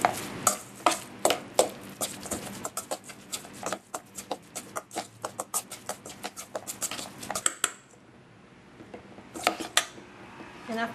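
Beef cake batter with steamed sweet potato and flax seeds being mixed in a bowl, a rapid run of sharp utensil clicks and scrapes against the bowl, pausing briefly near the end before resuming.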